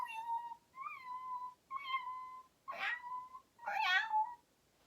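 A person imitates a cat, giving five separate meows of varied pitch and length, each a tonal mew with rising or falling inflection, the last two breathier and brighter, with short pauses between them and no other sound.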